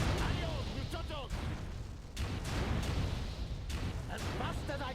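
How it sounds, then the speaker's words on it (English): Barrels blowing up in the real-time strategy game C&C Mental Omega, a run of loud, heavy blasts and crackling bursts layered over dense battle noise and game effects, with a voice talking over much of it. "I know there's a couple of barrels that I want to destroy because explosions are cool."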